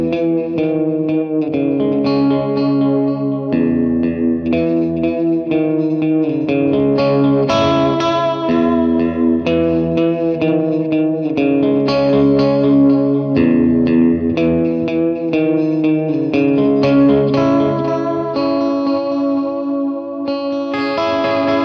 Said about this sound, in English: Now for some fun, I'm going to put on a bunch of delay and reverb.